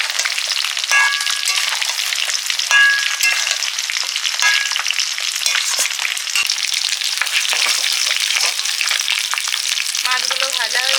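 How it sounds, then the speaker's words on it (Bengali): Fish frying in a pan, a loud continuous close sizzle with crackling spatters and faint clinks, steady throughout, with no one speaking. "মাছগুলো ভাজা হয়ে গেছে"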